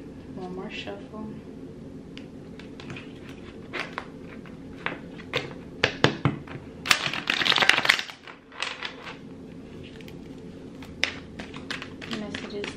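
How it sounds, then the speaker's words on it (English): A deck of tarot cards is shuffled by hand in a quiet room: a run of soft, irregular riffling taps and flicks, building to a denser burst of card flutter midway, then easing back to scattered light clicks. "One more shuffle."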